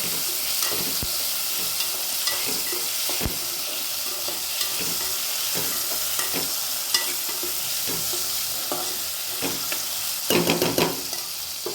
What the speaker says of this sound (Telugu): ఇవన్నీ వేసుకొని ఒకసారి కలుపుకోవాలి